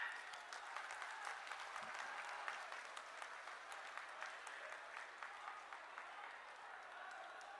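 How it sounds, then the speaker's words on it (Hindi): Steady crowd applause at an outdoor public rally in Gorakhpur, dense continuous clapping from a large gathering that holds at an even level throughout, with faint crowd voices mixed in. "अपने महाराज जी का गड़गड़ाहट तालियों से स्वागत करें।"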